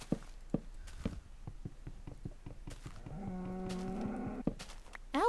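A cow from the Better Than Wolves Minecraft mod moos once in a long, loud, drawn-out call near the middle, preceded by steady blocky footstep thumps and followed by a brief sharp sound at the end.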